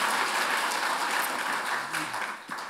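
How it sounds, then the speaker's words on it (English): An audience at an evening sake lecture applauds for the retiring lecturer, a dense, steady roar of clapping that stays loud throughout and thins slightly near the end. "so just a round of applause for John."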